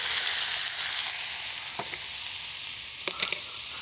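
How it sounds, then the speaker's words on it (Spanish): Chopped onion sizzles loudly in hot bacon grease on a disco griddle while beef alambre tacos are made, a steady frying hiss with a few soft stirring clinks near the end. "Y ahora sí, en esa grasa vamos a impregnar la cebolla."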